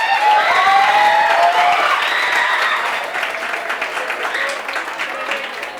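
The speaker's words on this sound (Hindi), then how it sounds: "जो लोग आए थे उनके लिए तालियां एक बार ठोकेंगे।" Applause from an audience in a revision lecture hall, dense steady clapping that starts loud with a voice briefly over it, then thins slightly and continues evenly to the end.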